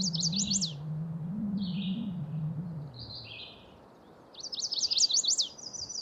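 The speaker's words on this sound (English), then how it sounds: "chestnut-sided warbler" A chestnut-sided warbler sings in a cleared wetland, its bright, quick phrases ringing out in two bursts at the start and end. Between them come softer chips. A low steady hum runs underneath.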